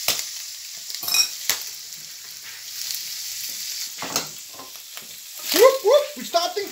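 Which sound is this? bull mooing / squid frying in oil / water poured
squid frying in oil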